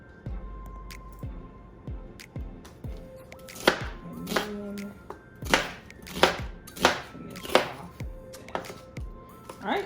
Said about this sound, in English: we're just gonna rough chop this